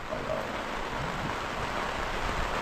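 Steady rain patters on a sailing boat at sea off French Guiana, a continuous wash of noise, with no voices and no clear breaks.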